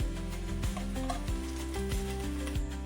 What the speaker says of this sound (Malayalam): ഇനി വെളുത്തുള്ളി ഇഞ്ചി പേസ്റ്റ് ഇടുക